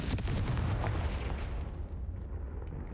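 A Confringo spell blast in the Hogwarts Legacy video game, a dense booming explosion with a sharp crack at the start and a rumbling burst that fades out over a few seconds.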